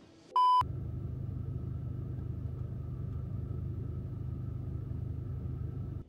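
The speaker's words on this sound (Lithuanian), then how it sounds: "O čia išvažiuoja BMW." A BMW car drives out, a short electronic beep at the start giving way to a steady, close engine rumble that holds evenly to the end, with no talking.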